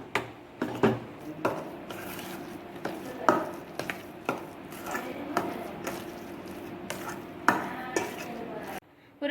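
Ground flour batter for motichoor laddu is stirred and mixed in a bowl, giving close, wet squishing strokes with sharp knocks of the spoon against the side at irregular intervals.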